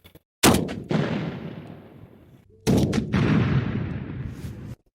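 Pyrotechnic charges go off at a Soviet-German WWII battle reenactment, with two loud, close blasts a couple of seconds apart, each followed by a long, fading rumble.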